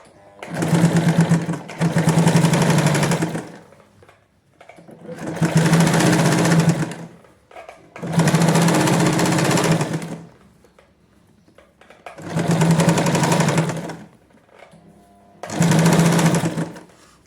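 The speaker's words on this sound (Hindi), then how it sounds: "अब हम इसके ऊपर स्टिच लगाएंगे" A sewing machine stitches a young girl's shorts in six separate bursts of close, loud whirring, each a second or two long, with short quiet pauses between them.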